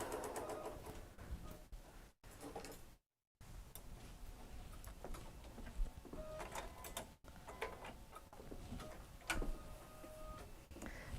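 Embroidery machine stitching a placement line, quiet rapid ticking and clattering in irregular bursts with a couple of brief pauses, close by and with no talking.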